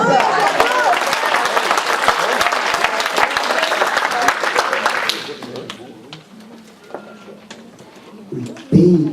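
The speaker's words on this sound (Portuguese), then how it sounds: "Se você quer, joga a mão para o céu e aplaude." Brazilian church congregation applauds with raised hands, a loud dense burst of clapping and shouts that drops off after about five seconds, leaving quieter murmurs and a voice.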